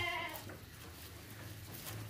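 Goats, a mother and her kids on a farm, bleat close by, one clear bleat at the start and fainter calls following over a steady background.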